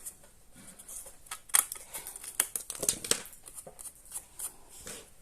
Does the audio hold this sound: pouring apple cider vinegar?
no